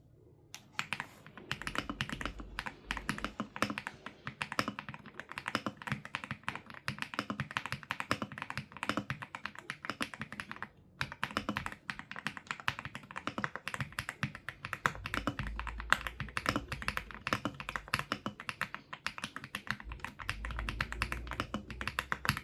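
Typing on an Aula S75 Pro tri-mode mechanical gaming keyboard, brisk, continuous clacking keystrokes heard up close, with a short pause midway and heavier thocky hits near the end, no voice.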